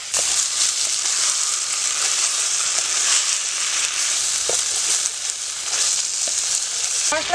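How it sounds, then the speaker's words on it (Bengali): Spices, chilli paste and chopped tomato fry in oil in a pan for a tilapia curry, a steady close hissing sizzle with occasional soft stirring scrapes, no voices. "সবগুলো মশলা দিয়ে আমার ভালো করে কষাতে হবে।"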